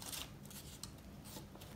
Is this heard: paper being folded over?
yes